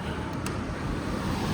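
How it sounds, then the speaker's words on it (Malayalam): Steady hurricane wind on the island of St Martin, a constant broad rush that fills the whole clip at even loudness, with a faint high whistling tone briefly showing near the middle. "ശൂളം അടിക്കുന്ന പോലത്തെ സൗണ്ട് കണ്ടോ? ഈ കാറ്റടിച്ചിട്ടേ ഉണ്ടോ"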